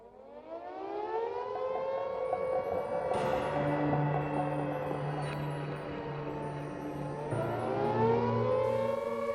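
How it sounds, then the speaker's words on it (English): A wailing World War II air raid siren in 1939 Britain rising and holding its mournful tone, loud and sustained throughout, with a second rising wail joining near the end. "the siren sounded for the first time"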